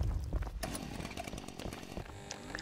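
A chainsaw weapon in the video game Ultrakill revs and grinds through a busy mix of buzzing, clanks and combat effects, its harsh saw tone rising and falling throughout.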